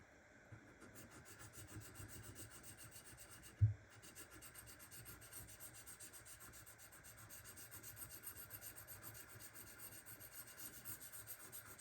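A knife is stroked over a Shapton Kuromaku 1500 grit whetstone in a steady, continuous rasping rub, with one sharp knock partway through, heard close and fairly quiet.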